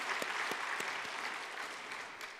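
Sustained applause from a church congregation during a Sunday afternoon worship service, steady and moderately loud, with occasional sharper claps standing out, fading slightly toward the end.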